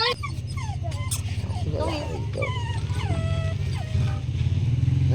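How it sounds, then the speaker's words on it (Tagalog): Puppy whimpering and yipping in short, high, whiny bursts, close by, repeated through the clip over a steady low motor hum, with people talking nearby. "Ay, yung aso doon."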